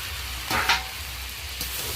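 Lightly fried potato and ridge gourd go into sizzling dal in a pan, giving a steady close hiss with a brief louder surge of spitting as they hit the oil.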